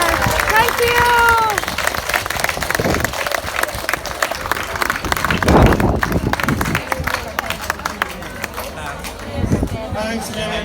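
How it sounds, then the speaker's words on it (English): A round of applause from an audience at the Bord Bia Bloom garden festival in Dublin, clapping mixed with cheers and voices, moderately loud and continuing under talk for the whole stretch. "Give us all a round of applause"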